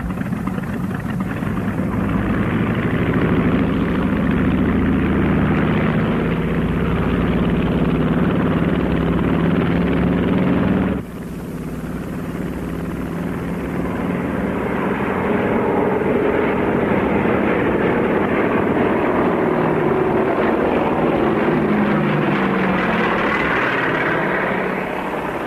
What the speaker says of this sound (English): Olympic seaplane, you're cleared for takeoff.